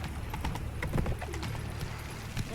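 Hooves of Roach, the horse in The Witcher 3, pound out a steady galloping clip-clop, moderately faint and continuous over a low rumbling game backdrop.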